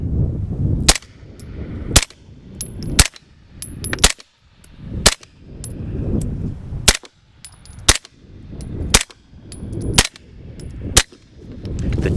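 Suppressed 9mm gunfire with 115 and 124 grain rounds through a short 9-inch HiTec Arms suppressor: about a dozen sharp, evenly spaced shots, each a crisp crack with a brief low rumble behind it, loud and close.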